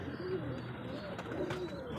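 A pigeon recovering from pox on its wing and face gives soft, low cooing close by, two short rounded coos over a steady background hum.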